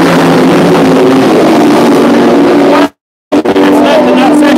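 Race cars circulate at Mondello Park race track, a loud steady engine drone with a sharp cutout to silence midway, then engine noise returning and continuing to the end.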